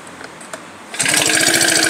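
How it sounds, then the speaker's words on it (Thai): A GX35 brush cutter's small four-stroke engine catches after a quiet second of faint clicks, then runs loud and close at low throttle with a rapid, even putter. "เครื่องติดนะมาเร่งกันดูครับ"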